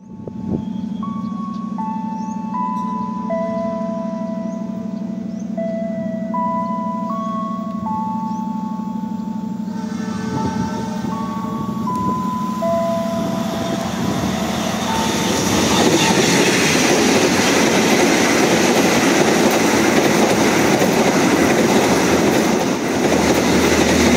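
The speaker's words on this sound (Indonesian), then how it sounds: "Pukul 13:58 kereta api Airlangga tiba di stasiun Tanjung" An Airlangga economy passenger train pulls into Tanjung station in Indonesia: a sustained low hum and a melodic multi-tone station chime come first, then loud rumbling, rolling noise swells and carries on to the end.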